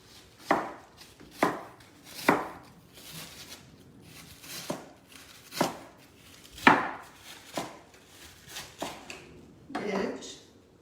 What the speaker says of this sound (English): I like to cut it with a knife. So I hold it up and I just cut it really thin.